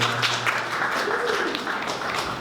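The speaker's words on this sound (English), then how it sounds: "Let's give these gentlemen a round of applause here" A crowd at a finance team event applauds the organizers, a steady, moderately loud wash of clapping that carries on evenly, with a faint voice or murmur beneath.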